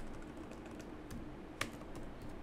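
Code is typed on a computer keyboard, producing soft, quick key clicks in an uneven stream, with one sharper keystroke standing out, close but fairly quiet.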